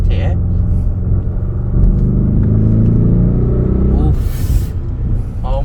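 An Audi in RS mode accelerates hard, its engine note rising in a deep rumbling surge heard from inside the cabin, with a voice speaking over the engine.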